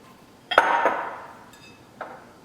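A utensil clinks against a bowl while flour is mixed with sugar, a few sharp taps and a scraping ring, close and fairly faint.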